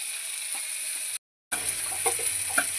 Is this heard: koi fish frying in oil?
yes